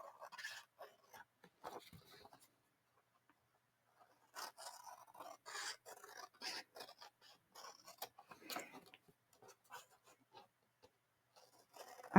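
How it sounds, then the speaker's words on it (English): Paper edges of a handmade Christmas-themed mini journal are trimmed with scissors in quiet, separate bursts of snipping and scraping, with silent pauses between cuts. "then we'll just trim the edges off of here"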